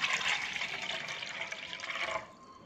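Fresh tap water pours steadily into an uruli vessel for about two seconds, then cuts off and leaves a faint, quiet tail.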